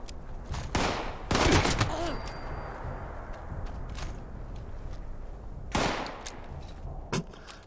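Combat shotgun firing in the Fallout 76 video game, several loud sharp blasts spaced apart, with a couple of quicker follow-up shots over quiet game ambience.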